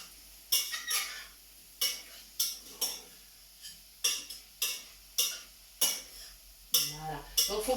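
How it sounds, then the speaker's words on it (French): A spoon stirs honey and tarragon carrots in a stainless steel saucepan, giving a string of sharp metallic clinks and scrapes in an irregular rhythm, each knock ringing briefly against a quiet background. "il faut bien continuer à remuer. Pas que ça attache dans le fond de la casserole."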